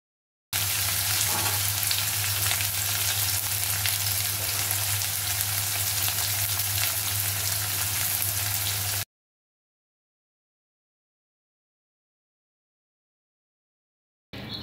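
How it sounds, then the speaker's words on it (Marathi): Chopped onion fries in hot oil for South Indian style tomato rice, a steady, close, broadband sizzle running continuously for about eight seconds before cutting to silence, with no talking. "कांदा चांगला गुलाबी लाल होईपर्यंत परतायचा आहे."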